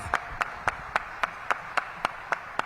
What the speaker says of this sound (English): Give Kevin a big round of applause.